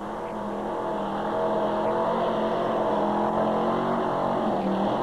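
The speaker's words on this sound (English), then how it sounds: "598 cubic inch Chevrolet engine on this one, 900 horsepower." Supercharged, alcohol-injected 598 cubic inch Chevrolet engine of about 900 horsepower in a pulling truck at a 1987 Winnipeg tractor pull, a steady loud roar holding throughout with rising intensity, no talk.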